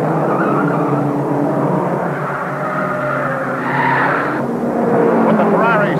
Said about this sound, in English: But the Ferrari spins, the frozen wheel bearing, locking a rear wheel.